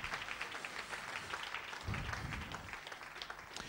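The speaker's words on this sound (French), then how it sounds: "Applaudissons le Seigneur Jésus." A church congregation claps together in praise, a continuous soft spatter of hands heard at a distance and fairly low in level.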